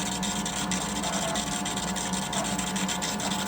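An EDM machine burns slowly through an inch of material, a steady, close electrical buzz with rapid regular ticking pulses, continuous and unchanging.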